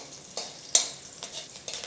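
Green chillies fry in hot oil for a puffed-rice chivda, giving soft, irregular sizzles and crackles with a few sharper pops at close range and no talk.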